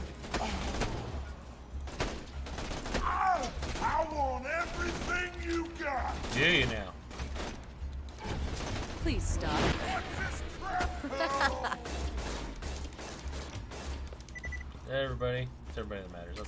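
Rapid gunfire from the video game Borderlands 2 rattles in repeated bursts of sharp shots, with someone talking over much of the shooting.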